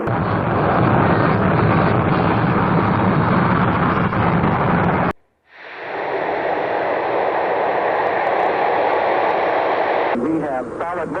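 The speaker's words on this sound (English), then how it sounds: "We have solid motor ignition and liftoff." Space shuttle solid rocket motor ignition and liftoff: a loud, dense, steady roar that cuts out briefly near the middle, then resumes just as strongly through the end.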